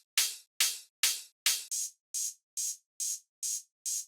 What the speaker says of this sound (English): I have 3 open hi-hats. I kind of just use them as layers.